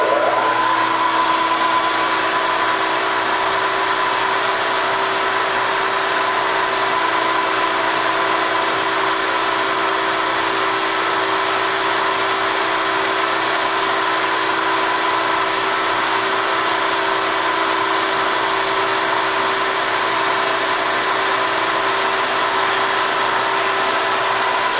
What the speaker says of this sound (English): first we're going to turn on the grinder spindle. We're going to turn on the lathe.